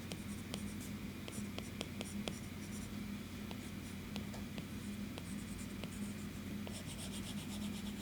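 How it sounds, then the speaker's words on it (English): An Apple Pencil writes on an iPad fitted with a Paperlike screen protector, giving soft, faint scratchy strokes and taps in a steady irregular rhythm over low background hum. "It makes writing and sketching with the Apple Pencil a joy."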